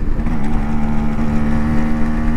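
A Yamaha RX 135 two-stroke motorcycle engine runs at a steady, buzzing idle-to-cruise pitch, loud and close, with constant rough vibration and no speech over it.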